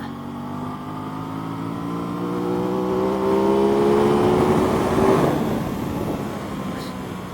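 2021 Aprilia RS660 sport motorcycle on a race track, fitted with race slicks, its engine revving up through a rising whine that swells loudly before cutting back to a lower drone.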